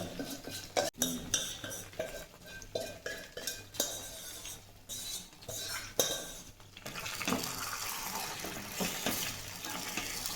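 Fenugreek seeds stirred in ghee in a pan for methi laddu, a steady run of scraping spoon strokes and light clinks against the metal, close and fairly quiet, with a brief watery rush near the end.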